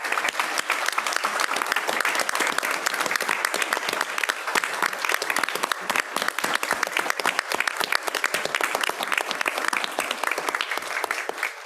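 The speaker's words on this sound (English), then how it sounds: "as we shower them with a round of applause" Sustained, fairly loud audience applause fills a board of education meeting room as the teachers of the year are honored, dense steady clapping throughout with little talk.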